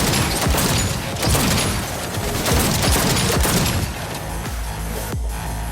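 Sustained, loud minigun fire in Cyberpunk 2077, a dense rapid rattle of shots that runs on for several seconds over heavy booming.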